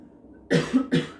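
Two quick coughs, close and fairly loud, one right after the other, in an otherwise quiet room.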